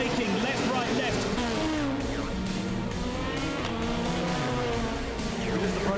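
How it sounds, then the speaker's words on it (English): Nissan race cars pulling away at the start of the Le Mans race among a field of LMP2 cars, a dense continuous roar of several engines with a shifting engine tone, loud and steady throughout, with commentary talk over it. "the 3 Nissans get away cleanly and try to work their way through the field of LMP2 cars"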